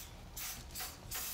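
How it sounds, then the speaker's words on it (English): Cooking spray hisses onto a pan in a restaurant kitchen in three short bursts, close and fairly quiet, with no voices. "we have to spray the pan over here."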